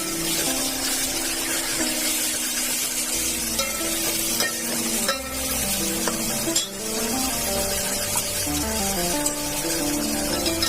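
Onions and tomatoes are stirred in a frying pan for misal, giving a steady close sizzle and scraping under continuous background music, with no talking.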